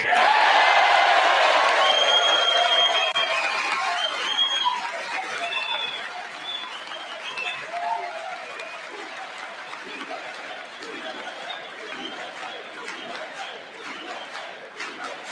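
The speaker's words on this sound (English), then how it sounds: "Raucous crowd of Republicans here chanting USA." Raucous crowd of Republicans at a congressional address chanting USA, a dense roar of many voices that starts loud and settles into a steady, slightly fainter chant with cheering mixed in.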